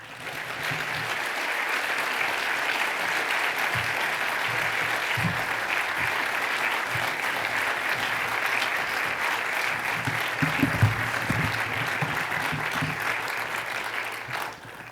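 Steady, full applause from an annual meeting audience welcoming speaker Dan Smith, loud and even throughout with no talking over it.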